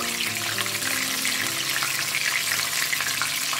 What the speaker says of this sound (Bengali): আমি চুলোর ফ্লেমটা মিডিয়াম রেখেছি এবং এটা আস্তে আস্তে আমি ভেজে তুলবো